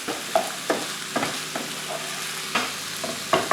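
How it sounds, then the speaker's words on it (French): Escalopes frying in a pan over low to medium heat, a steady close sizzle broken by several sharp clacks and scrapes of a utensil stirring, with no voices. "maintenant je vais laisser cuire mes escalopes environ 3 à 4 minutes, voire 5 minutes"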